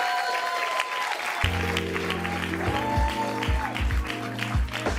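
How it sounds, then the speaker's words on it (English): Audience applause at a wine tasting event, a broad steady wash of clapping from a crowd that carries on throughout under music and a faint voice. "give them a round of applause"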